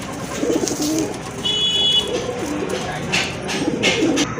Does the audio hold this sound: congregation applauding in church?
no